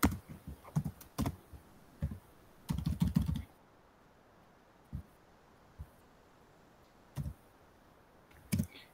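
Keys clatter on a computer keyboard in short bursts of close clicks, a dense cluster early on, then scattered single taps separated by quiet pauses.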